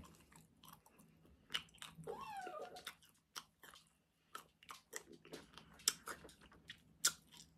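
Close, quiet chewing of garlic fried chicken and tuna, with irregular crunchy bites and soft wet mouth sounds spread across the clip, no talking.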